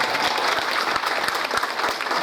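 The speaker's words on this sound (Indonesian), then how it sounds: "Tepuk tangan." Audience applause at a Halal Bihalal gathering of the RWM Al Hasanah community, a dense, steady round of many hands clapping close by, sustained for a couple of seconds with no voices over it.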